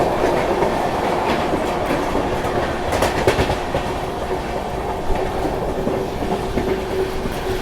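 The Purushottam Express runs along its rails with a loud, continuous rumble and rhythmic clickety-clack of wheels over joints, heard from close by without talk.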